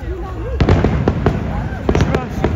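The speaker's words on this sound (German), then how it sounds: "das Feuerwerk ist eigentlich schon seit 2 Minuten begonnen" Fireworks at the Hamburg harbour birthday festival, sharp cracks and bangs popping irregularly at moderate distance over crowd noise and a voice talking.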